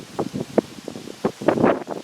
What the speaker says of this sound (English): Man, I wish it wasn't so windy.